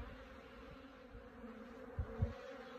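Honey bees in a Flow Hive and a new brood box, giving a soft, continuous buzzing hum nearby with a couple of faint bumps near the end.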